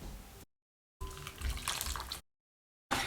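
Melted hot butter mixture is poured over chocolate chips in a bowl, making a brief, soft liquid splash between abrupt silent gaps.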